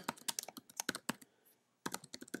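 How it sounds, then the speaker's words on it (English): Quick, close clicking keystrokes on a computer keyboard, a rapid burst of typing, a short pause, then another run of keys. "I will type in the name field cellular"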